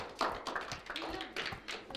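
A classroom of students claps for a group after its discussion presentation, scattered light hand claps and taps at moderate distance, fairly faint and uneven.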